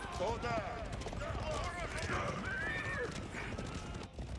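Horses galloping and neighing in Age of Empires, a soft patter of hooves and brief whinnies mixed low beneath steady excited commentary from casters.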